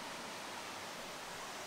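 Waterfall in a snowy Norwegian forest gives a constant dense hiss of falling water, even and unbroken, with no one speaking.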